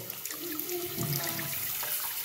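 Water running steadily from a tap while sea moss is rinsed in a sink, a constant hissing flow with faint splashes, fairly quiet and without speech.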